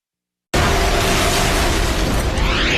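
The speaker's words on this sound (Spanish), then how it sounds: "Una serie de explosiones desgarra la ciudad de Nueva York." A dramatized series of explosions tearing through New York City, heard as a sudden loud broadband blast after half a second of silence that roars on continuously to the end.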